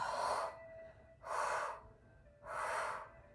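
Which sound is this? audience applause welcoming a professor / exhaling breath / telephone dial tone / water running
exhaling breath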